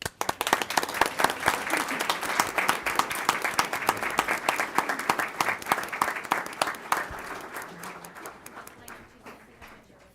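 An audience at a high school district board meeting breaks into steady clapping that lasts around ten seconds before thinning out and fading at the end.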